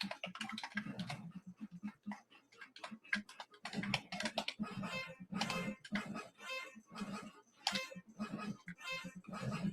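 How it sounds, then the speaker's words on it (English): Computer keyboard keys clatter in rapid, irregular bursts of clicks and taps while an Atari 7800 arcade-style game such as Mouse Trap or Pengo is played on the keyboard, close and fairly quiet, with no talking. "I'm actually playing with the keyboard."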